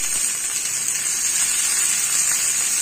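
A handful of coriander leaves sautéing in a pan for potato rice gives a steady, close hiss that holds an even level throughout, with no voices.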